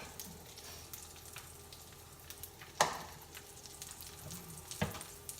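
Tuna steaks sear in a hot pan with a quiet, steady sizzle, punctuated by a couple of sharper crackles as the fish is moved.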